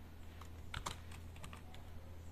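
Computer keyboard typing in a quiet room, a short irregular run of soft key clicks over a steady low hum, no voices.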